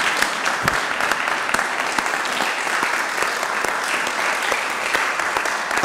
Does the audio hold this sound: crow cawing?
no